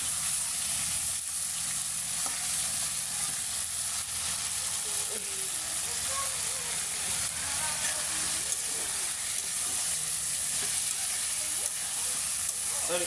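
A spice mixture for chicken curry fries in a pan, giving a continuous dense sizzle and hiss with occasional stirring scrapes, steady and close throughout.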